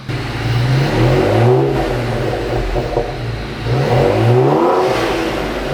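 A big modified V8 in a former police interceptor revs hard twice, a deep throaty roar rising and falling in pitch, close by and loud with a steady idle rumble in between.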